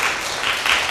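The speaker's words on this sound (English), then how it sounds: "The clapping's great" An audience claps at a city council meeting, a dense, steady wash of hands from many people, loud and sustained for the whole moment with no voices over it.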